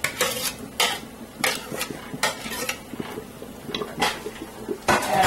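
Ingredients for ogbolo soup going into a pot, heard as a string of clinks, scrapes and splashes of a spoon against metal over a faint sizzle, close and irregular.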